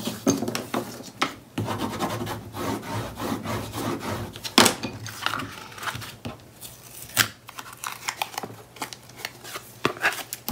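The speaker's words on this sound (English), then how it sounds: "Cut another notch." Someone cuts a notch into album board, with close scissor-like snips and scraping rubs over several seconds, plus scattered sharper cuts and no talk.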